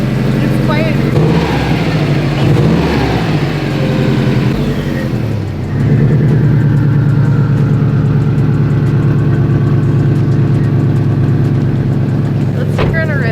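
A Subaru WRX with a newly fitted exhaust pipe starts and settles into a steady, deep idle, loud and close, with a brief rev near the start and a voice talking over it.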